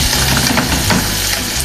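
Egg sauce sizzling steadily in a hot pan as it is lifted and flipped, a loud continuous frying hiss filling the whole moment with no voice over it.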